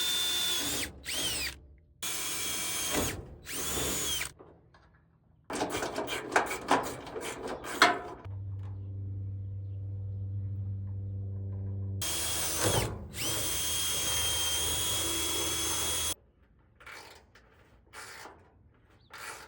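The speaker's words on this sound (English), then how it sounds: "We're just gonna drill our own holes right now." Several bursts of a power drill whirring at close range, drilling holes in a 1957 Chevy truck, starting and stopping in short runs with pauses between, including one steady sustained run.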